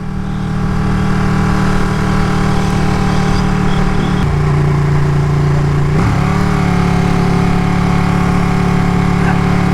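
A Ducati 959 Panigale motorcycle engine hums steadily and loudly while riding, holding a constant drone with brief shifts in pitch and a continuous rush of wind noise, no voices.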